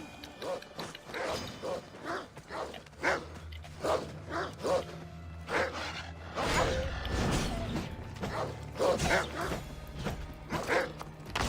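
Dogs in Assassin's Creed Odyssey bark repeatedly in short, regular yaps with some yips, fairly close, over faint creaking background sounds.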